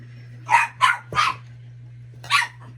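A dog barks four times in quick bursts, close and loud, over a low steady electrical hum.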